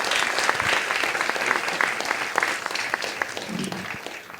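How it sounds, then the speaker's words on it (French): Steady applause from a crowd at a student graduation awards ceremony, dense and even clapping throughout, tapering slightly at the end. "un mot de Simon et Thomas qu'on peut applaudir."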